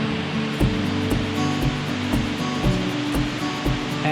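A waterfall on a Colorado mountain hike roars as a constant broad rush, close and loud, with faint regular thuds underneath.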